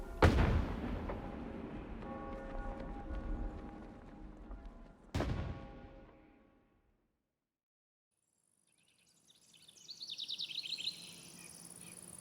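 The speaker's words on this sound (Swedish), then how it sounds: "Kanonsalut och gevärssalvor dånar, allt medan ropen runt om skallar." A cannon salute with rifle volleys honouring Sweden's Queen Sofia Magdalena: two heavy, close booms a few seconds apart, each with a long rolling decay, then near silence before a faint, scattered crackle rises at the end.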